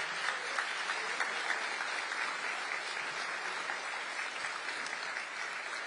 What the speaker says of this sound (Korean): 다시 한번 대통령님께 큰 박수